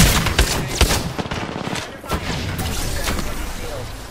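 Video game shooter gunfire cracks in quick bursts of shots, close and loud, fading into a steadier noisy rumble, with players talking over it.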